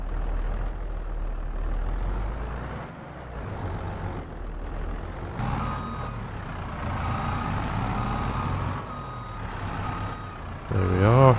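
A tractor in the video game Farm Sim 22 drives with a continuous low engine drone and a steady run of reversing beeps, ending in a brief louder mechanical clunk.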